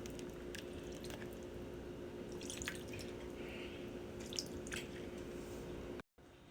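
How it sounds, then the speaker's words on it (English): Oat milk trickles and drips over raw chicken in a kitchen, soft wet splashing and dripping under a steady low background hum, faint and continuous, with no talking. "And now we're pouring oat milk over the chicken."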